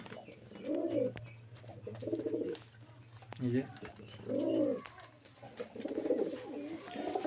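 Pigeons coo softly in repeated throaty bursts, with a faint voice and low hum in the background.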